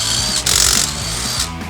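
An air impact gun hammers at tight wheel nuts on a 1964 Ford XM Falcon, a loud rattling burst that surges sharply for a moment midway and again near the end, close and alone.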